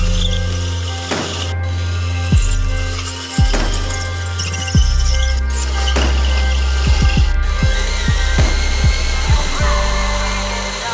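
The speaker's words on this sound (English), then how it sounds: "I'm going to use a 1/8 inch drill bit for a pilot hole." A power drill with a 1/8 inch bit whirs loudly up close, speeding up and slowing down in repeated bursts as it bites into a steel truck frame of a 2020 Toyota Tacoma, with brief pauses between.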